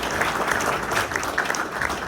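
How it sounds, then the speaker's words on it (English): A morning business-event audience in Riverside County claps briefly and at moderate volume, a soft steady patter of hands lasting a couple of seconds. "Yeah, you can clap."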